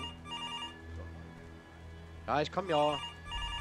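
A telephone rings repeatedly with a steady electronic pattern in the horror video game Left to Rot, while someone talks over it briefly.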